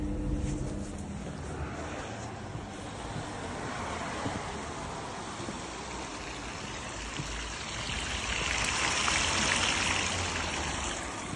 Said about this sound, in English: Our pump's pumping it out to drain it